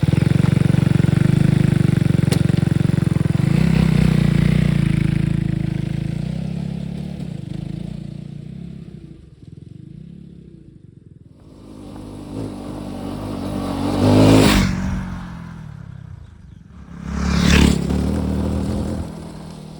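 A Mondial HPS 300 motorcycle engine hums steadily nearby on a track, fades down, then revs up in two sharp surges as it accelerates past.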